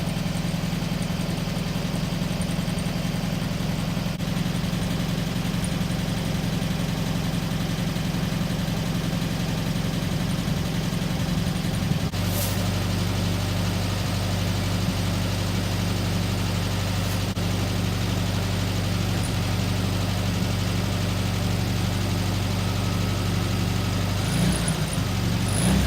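A 30-year-old VW Sunbug engine runs steadily at idle, a loud continuous low rumble that shifts pitch slightly about halfway through, with no one speaking.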